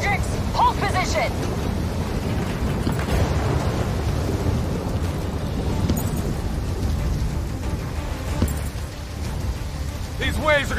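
Superstorm in the video game Call of Duty Black Ops III, a continuous roar of rain and rumbling thunder filling the scene, with brief voices over it.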